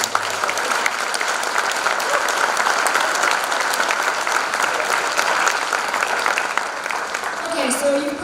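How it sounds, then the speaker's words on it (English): A crowd at a tribute ball applauds loudly and continuously, a thick, sustained clapping that stays strong throughout, with a faint voice rising near the end. "and one more round of applause"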